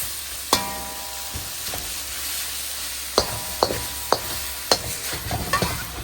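Gochujang pork mixture being stirred and coated in a pan: a soft sizzle broken by several sharp utensil knocks against the pan, spaced irregularly, with no talking.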